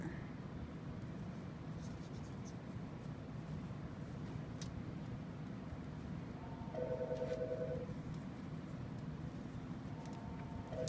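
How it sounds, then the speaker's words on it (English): A telephone ringing in a shop, a faint electronic ring heard twice in the background over steady room noise and rustling, with no talking. "as you can hear our phones ringing"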